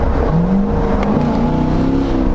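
Corvette Stingray with a loud exhaust driving, its engine droning steadily and rising in pitch as it pulls through the gears, close and loud throughout with no talking.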